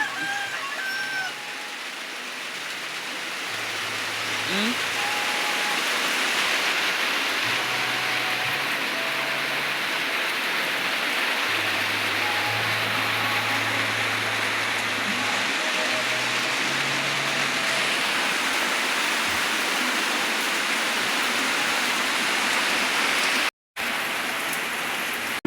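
Steady rain pours down in the Agusan Marsh, Philippines, with a constant, close hiss that lasts throughout, with a few faint low sounds underneath and no talking.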